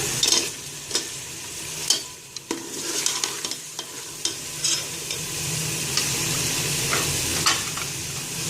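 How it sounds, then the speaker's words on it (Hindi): Goat head and trotters, siri paye, fry in a pot with a loud, steady sizzle, while irregular stirring clatters and knocks ring out against the metal. "साथ ही इसमें सीरी भी ऐड कर रही हूँ और इसको अच्छी तरह से भून लूंगी"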